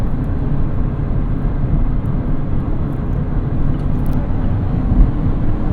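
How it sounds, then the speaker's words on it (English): Steady road noise fills the cabin of a Mazda ND1 Miata on the move, a continuous close droning roar with no break and no talking. "as you can hear now, it's a ton of road noise"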